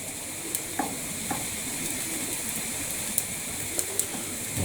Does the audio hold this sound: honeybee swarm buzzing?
no